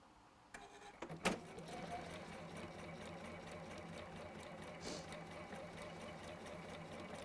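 A sewing machine stitches quilt-block fabric with scrap fabric as a leader, starting with a few clicks and then running in a steady, close mechanical whir until the end.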